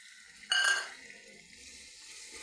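Tomatoes dropped into a hot pan with turmeric and salt burst into a loud sizzle at once, with a clink of utensil, then settle into a quieter steady fry.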